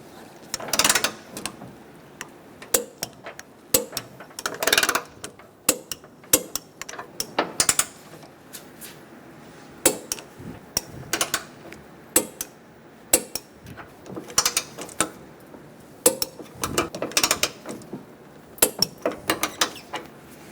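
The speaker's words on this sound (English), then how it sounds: "Torque the bolts to 43 foot-pounds." A ratchet clicks in repeated bursts while bumper bracket bolts on a 2014-2018 Chevrolet Silverado 1500 are torqued to spec, with sharp metallic ratcheting strokes and brief pauses between them, close and fairly loud.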